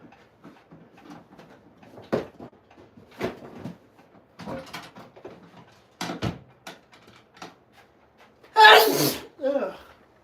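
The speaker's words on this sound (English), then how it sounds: "I'm gonna sneeze." A person sneezes once loudly and close by, a sharp burst followed by a brief tail, after stretches of quiet talk and small handling noises indoors near a pump reed organ.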